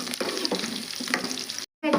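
Chana dal tempering with chilli powder sizzles and crackles in a hot pan, with a few utensil stirs, then cuts out briefly before the frying resumes.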